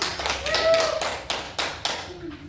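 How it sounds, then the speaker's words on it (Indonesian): A fifth-grade class claps hands in a classroom, a short run of sharp, spaced claps at moderate volume with a voice speaking over them. "Tepuk tangan dulu."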